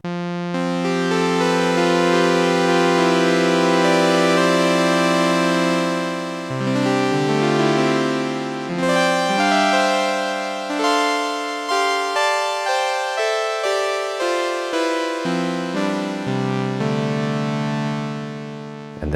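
Kawai K3 vintage hybrid synthesizer playing a single-oscillator sawtooth wave, bright buzzy tones rich in harmonics, held notes giving way to a descending then stepwise sequence of shorter notes, loud and alone.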